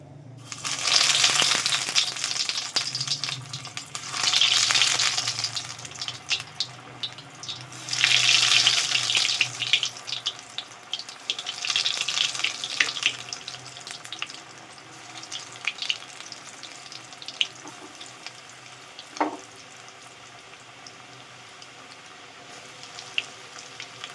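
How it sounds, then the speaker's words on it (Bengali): Chicken cheese balls deep fry in hot oil with a loud, close, bubbling sizzle that swells in waves as each ball goes in, then settles to a softer, crackling fry. "তেল গরম হয়ে গেলে এক এক করে ছেড়ে ভেজে নেব ভালো করে"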